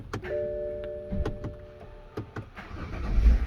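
A BMW's starter clicks and cranks in a few short bursts, with the engine briefly catching and rumbling near the end; the car has a starter ignition fault and starts only intermittently.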